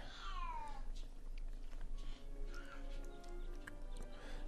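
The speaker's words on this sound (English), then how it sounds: "Sorry, that's my kitty cat meowing away there." A pet house cat meows near the start, a short rising-falling cry, against quiet background game music with faint rustles.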